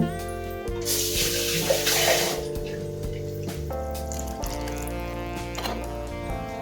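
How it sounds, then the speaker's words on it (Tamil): Water is poured into a simmering mushroom gravy on the stove: a broad, splashing pour rises in the first couple of seconds, while steady background music carries on throughout. "இன்னும் கொஞ்சம் தண்ணி விட்டுக்கிட்டோம்னா இது வந்து வெந்து வரப்போ கரெக்டாக இருக்குங்க"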